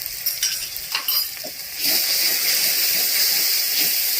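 Cumin, coriander and turmeric powder fry with fish head in a pan, starting with stirring scrapes and crackle, then settling into a steady, close hiss of sizzling oil, with no voices.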